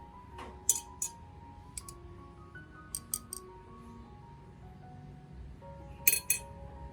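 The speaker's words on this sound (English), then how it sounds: "Take 2 tablespoons of cinnamon powder." Metal tablespoon scooping cinnamon powder, a few sharp metallic clinks and taps against a container scattered across a quiet background, with soft scraping between them.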